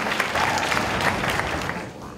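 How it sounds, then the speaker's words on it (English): Audience applause at an evening church choir concert, a broad steady clatter of many hands filling the room, with a voice faintly over it. "Another round of applause for our"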